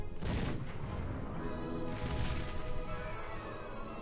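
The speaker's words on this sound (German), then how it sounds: "Alle Kanonen. Feuert hier rein." Cannons fire in the video game Cossacks 3, a dense barrage of booming volleys and crashing impacts rolling on continuously at moderate loudness.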